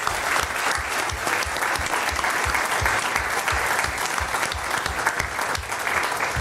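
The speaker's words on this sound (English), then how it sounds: "Let's give that team a round of applause." Sustained applause from a large crowd at a school district governing board meeting, dense and steady clapping throughout, fairly loud and close.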